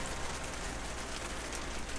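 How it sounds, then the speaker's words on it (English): Loud rain falls steadily as a dense, even hiss that fills the whole stretch without pause, close and constant, with no voices heard. "It's raining. It's loud."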